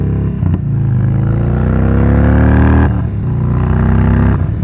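A 2022 Indian Chief Bobber cruiser motorcycle rides through a corner, its V-twin engine droning loudly and close as revs climb steadily, then dip briefly and rise again after a gear shift, with heavy wind rumble underneath.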